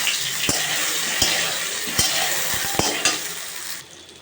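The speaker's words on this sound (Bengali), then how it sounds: "আলুগুলোকে দিয়ে একটু ভেজে নেব।" Boiled potatoes fry in hot oil with a steady, close sizzle, broken by a few sharp knocks from stirring about every second; the hiss thins out at the very end.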